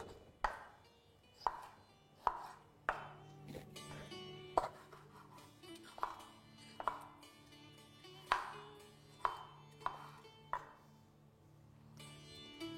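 A knife chops vegetables into small pieces on a board for a paste, in a series of sharp, unevenly spaced cuts, close and fairly quiet, with no talking.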